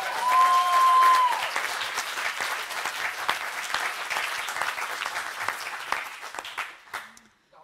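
Sustained audience applause fills a plenary hall at a secularism conference, dense clapping running steadily at a loud level before tapering off near the end, with a brief tone near the start.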